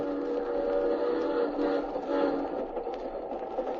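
A train rolls steadily along its rails as a radio drama sound effect, a continuous low rumble and rattle of the carriages with no voices.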